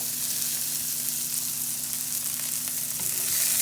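Garlic and onion burger patties cook in a hot pan, giving a loud, dense, steady sizzle that runs unbroken and alone, growing slightly stronger toward the end.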